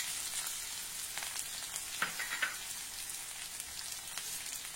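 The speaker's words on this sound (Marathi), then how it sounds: "तेल गरम झालं की त्यामध्ये जिरं आणि मोहरी घालूया।" Cumin and mustard seeds sizzle in hot oil with a steady, soft, hissing fry, a few brighter crackles and pops rising briefly around the middle, with no voices.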